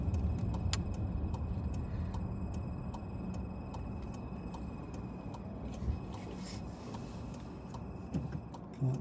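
A car's turn signal indicator ticks steadily at about two clicks per second while driving up to a roundabout, faint beneath the hum of the engine and road noise.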